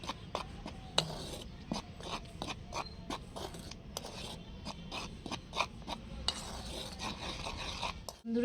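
Spiced mashed potato being mixed by hand or spoon in a bowl: steady, soft rasping and scraping with repeated light clicks against the dish, close and quiet, no talk.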